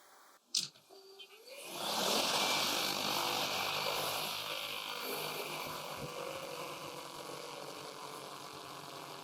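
An XAG agricultural spraying drone lifts off automatically, its rotors rising in about two seconds from a brief click into a loud, close whirring buzz that then holds steady as it climbs.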